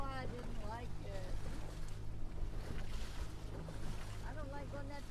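A Ranger RT 178 boat runs through choppy waves on Kerr Lake, its steady engine drone mixed with water slap and wind buffeting, while someone talks over it.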